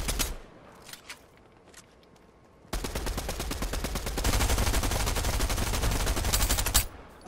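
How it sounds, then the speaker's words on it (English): Rapid video game gunfire fills a shooter match, starting with sparse distant shots and then bursting into sustained, loud automatic fire that runs for several seconds before cutting off. "Run over here, Paul. Shoot him."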